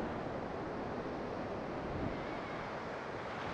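Gentle sea waves lap a shore in a steady, soft wash of broadband surf noise, continuous and even, with a hint of wind and no voices.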